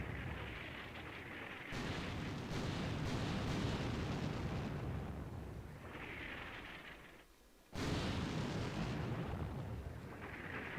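Sustained artillery barrage in the war game Combat Mission: Shock Force 2, a dense, continuous rumble of overlapping blasts that fills the whole span, easing briefly near the end before resuming at full loudness.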